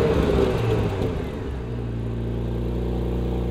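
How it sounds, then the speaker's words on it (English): A Porsche Macan S compact SUV from 2021 revs with a quick throttle blip on cold start, a loud engine rise that settles into a steady, rumbling high idle. "Give it a couple throttle blips so you can hear what it sounds like on cold start."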